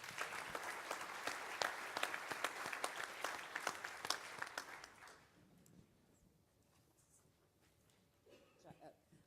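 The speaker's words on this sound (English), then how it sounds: "Ladies and gentlemen, please a round of applause for my co-pilot" Conference audience applauding a co-host at a panel's opening address, dense clapping for about five seconds that then fades to room quiet, with faint talk at the end.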